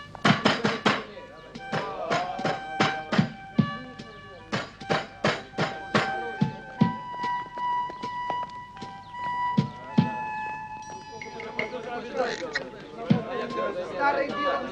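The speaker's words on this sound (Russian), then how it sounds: "Ну, стукни, стукни." Repeated knocks on a closed door, sharp percussive raps in quick bursts over about fifteen seconds, some loud and close, mixed with background music and a brief voice.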